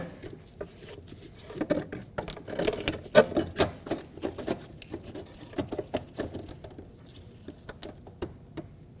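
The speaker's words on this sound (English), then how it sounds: "We're going to install our lock ring." Installing the plastic fuel pump lock ring on a 2012-2022 Volkswagen Passat 2.5L: close clicks, taps and scraping knocks come in irregular bursts, moderately loud with no talk.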